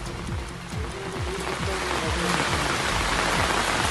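Heavy, nonstop monsoon rain pouring in Dakshina Kannada, a dense hiss that swells louder over the clip, with a voice talking over it.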